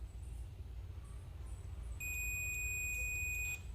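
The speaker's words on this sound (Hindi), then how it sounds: "ये बीप साउंड कर रहा है, ये पूरा शॉर्ट हो चुका है।" Continuous multimeter continuity beep from probing a blown, fully shorted MOV taken from an LED bulb driver, a steady high tone starting midway and holding for over a second over low hum.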